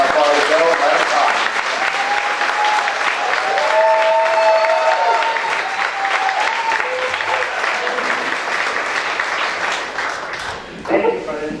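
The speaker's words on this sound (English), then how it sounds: "Thank you for the round of applause." An audience at a married couples reunion banquet applauds in a sustained round of clapping that fills the room, steady and fairly loud before tapering off near the end, with voices mixed in.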